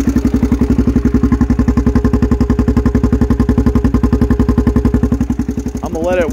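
A dirt bike engine idles steadily while warming up, a close, even chugging pulse throughout, with a slight rise in pitch and a brief clatter near the end.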